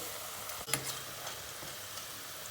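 Eggplant pieces fry in hot oil in a home kitchen. The sizzle is faint and steady, broken once by a short utensil clatter.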